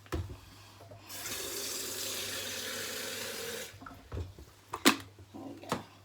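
Hot water runs from a kitchen tap onto glass noodles made from mung bean, a steady splashing rush for about three seconds, then a few short clatters and knocks near the sink.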